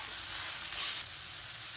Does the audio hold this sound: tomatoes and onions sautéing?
yes